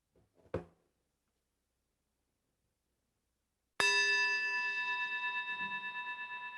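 A memorial bell rung once during a church service strikes sharply after a stretch of near silence, then rings on with a bright, pulsing decay that stays loud to the end. A faint brief noise comes earlier.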